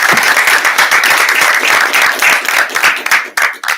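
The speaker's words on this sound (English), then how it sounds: "We'll give you a little round of applause." An audience at a school board meeting gives a round of applause, many hands clapping close and loud in a steady wash that thins out toward the end.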